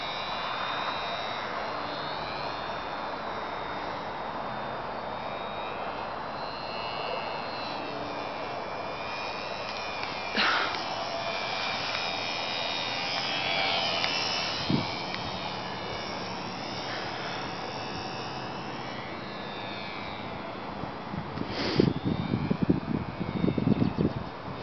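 An RC Piper Super Cub model plane flying at night gives a steady, thin engine drone that holds throughout with slight swells, over wind noise and a few bumps and handling rumbles near the end.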